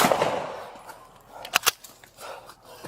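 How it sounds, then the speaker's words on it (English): Gunshots go off during a close struggle with police, two sharp, loud reports in quick succession near the middle, set amid scuffling noise and breathing with no clear speech. "Shots fired."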